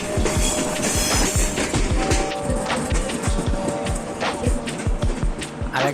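Train rolling through a station in a video game, with a steady clickety-clack rhythm of wheels over rail joints and a continuous rumbling hum, loud and close.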